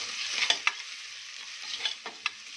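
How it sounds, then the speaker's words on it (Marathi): Salt and turmeric being stirred into potato dal khichdi in a pan, a soft continuous scraping with a few sharper clicks of the spoon against the vessel over a faint sizzle, close and alone. "आता यामध्ये चवीनुसार मीठ आणि हळद ॲड करूया. छान हे पण मिक्स करून घेऊया."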